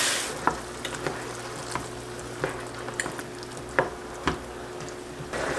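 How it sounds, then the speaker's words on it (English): Sauce hits stir-fried vegetables and chicken with rice noodles, a steady close sizzle broken by regular clicks of a utensil against the pan, no one speaking. "I'm going to add that sauce that we created now to help with the flavors and the cooking"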